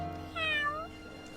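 A kitten named Tiddles gives a single clear meow over a steady low background hum.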